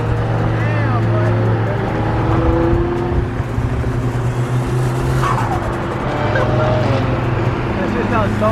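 Loud car engines rumbling and revving at a gathering of JDM cars including a Nissan R35 GTR and a 2020 Toyota Supra, steady drone with surges, people talking over it.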